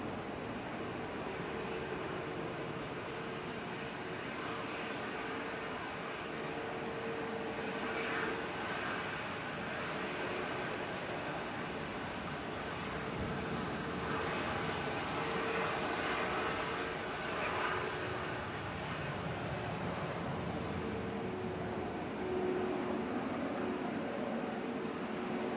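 Brussels Airlines Airbus A319 airliner departing Manchester Airport on a windy day: a steady, distant jet roar that stays even and continuous throughout, mixed with broadband wind rumble and no voices.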